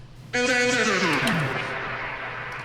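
A sustained harmonic tone abruptly drops in pitch and slows, sliding downward over about a second like a tape machine winding to a halt, then a lingering wash remains.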